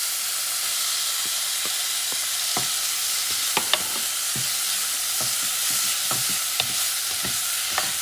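Onions fry in a hot pan for kangaroo chili, a loud continuous hiss and sizzle up close with scattered crackles and occasional utensil clicks, no talking.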